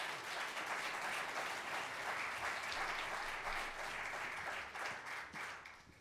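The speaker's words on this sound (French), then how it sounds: "Je voudrais qu'on les applaudisse bien fort." A concert audience at Bozar applauds loudly in a dense, sustained wash of clapping that thins slightly toward the end.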